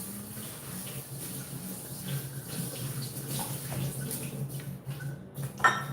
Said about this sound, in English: My parsley is pretty clean right now, so just a quick rinse.